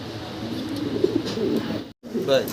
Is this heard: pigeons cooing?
yes